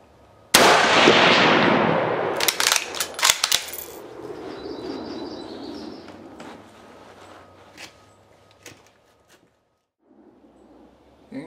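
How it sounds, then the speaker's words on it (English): Mosin Nagant rifle fired at a 200 meter target: one loud, sharp close shot with a long decaying blast, followed by metallic bolt clatter and small handling noises, then near quiet. "The second target, I'll shoot with the 200 meter sight setting."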